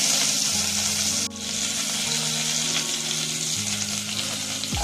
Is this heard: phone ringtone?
no